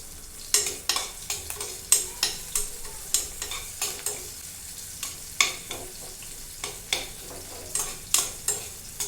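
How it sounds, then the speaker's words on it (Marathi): Chopped onion sautéing for matar pulav, sizzling steadily while a spatula scrapes and stirs in a regular rhythm of sharp strokes, close up with no voices. "कांदा जो आहे तो आपण थोडा परतून घ्यायचा आहे"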